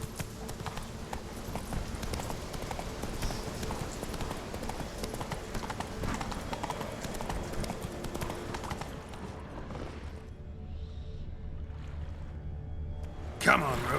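Roach, the horse in The Witcher 3: Wild Hunt on PS4, hooves clip-clopping in a steady rhythmic gait that slows and fades toward the end, with speech present at times.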